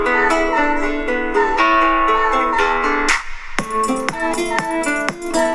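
A Spanish-flavoured instrumental beat demo with sustained melodic chords and plucked notes, a brief drop near the middle before percussive hits return, playing loud and continuous with no voices.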